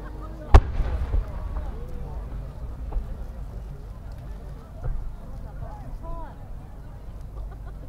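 A large aerial fireworks display by Nomura Fireworks at the 2019 Omagari fireworks competition: one sharp, loud burst near the start, then a steady low rumble and crackle with a murmuring crowd throughout.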